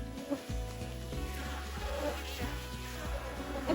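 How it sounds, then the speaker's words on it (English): Dense, continuous buzzing of agitated honeybees at a bee yard as rain begins, like many bees swarming close by, a steady drone with no talk. "The bees are really irritated."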